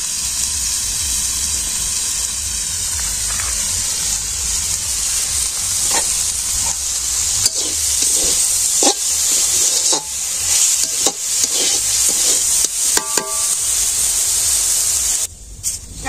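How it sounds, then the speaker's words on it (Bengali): Loud continuous sizzling of greens frying in oil, with occasional clicks and scrapes of stirring, no talking. "তেল দিয়ে একটু ভাজা ভাজা করে থাকবেন।"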